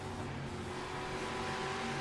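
A race car at a local short track drones past with a steady engine hum, faint and continuous, with no voices.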